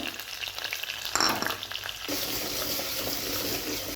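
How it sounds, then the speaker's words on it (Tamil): Steady sizzling of onions, garlic and cluster beans frying in a pan, with a brief clatter of stirring partway through; close and continuous, no voices. "இதையும் வந்து வெங்காயம் பூண்டு போட்டதுக்கப்புறம் இதையும் போட்டு நல்லா வதக்குங்க"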